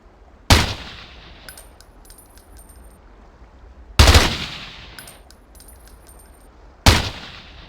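Three loud, sharp rifle shots ring out a few seconds apart at practice targets in the game Ghost Recon, each one trailing off in a brief echo, followed by faint metallic pings.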